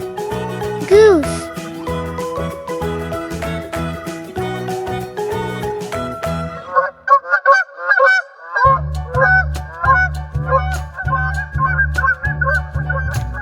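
Goose honks over a bouncy music track on a farm-animal learning song, a burst of calls near the start and a run of short nasal honks through the second half.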